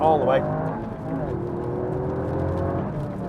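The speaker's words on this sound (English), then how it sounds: "Let's drop a gear. That's a second gear pull, all the way." A Toyota GR Yaris accelerates hard in second gear, its engine note rising through the pull and then easing, heard from inside the car with a steady whirring drone throughout.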